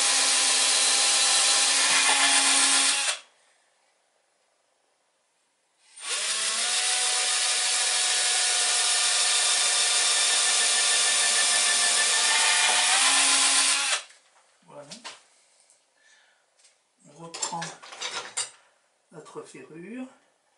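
A power drill bores two holes in wood for a small toy boat, in two loud whirring bursts, a short one followed by a longer one, then scattered clinks and handling noises.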